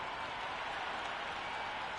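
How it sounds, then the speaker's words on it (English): Steady roar of a cricket stadium crowd in the Cricket 26 video game before a warm-up match between India and Australia, a faint, even wash of cheering and clapping with no distinct peaks. "this crowd is already making it hard for me to be heard"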